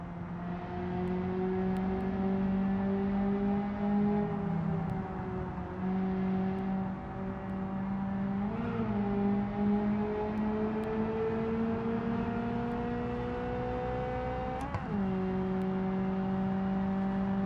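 A car driving in a video game, its engine holding a steady, loud drone that shifts pitch slightly as it eases off and picks up again, continuous and close, with no talking.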